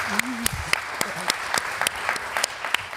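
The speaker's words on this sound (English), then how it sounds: "we can clap to that if you want, guys" Audience at The Atlantic Festival 2025 panel claps briefly, a few distinct hand claps scattered across the moment, with a voice speaking and some laughter underneath.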